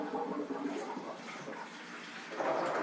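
Water is poured over beans ahead of cooking in an electric pressure cooker, a soft, continuous splashing pour that swells slightly toward the end, faint and alone.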